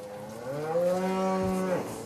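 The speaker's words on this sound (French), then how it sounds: "Et ces vaches sont malades." Single long, drawn-out moo from a black-coated cow near Fukushima, sick and marked with white patches, rising then falling off, clear and moderately close.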